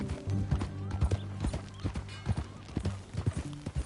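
Hooves of a horse in Red Dead Redemption clip-clop in an uneven walking rhythm, close and fairly loud, over a steady low tonal hum with a brief whinny-like snort and faint mechanical creaks.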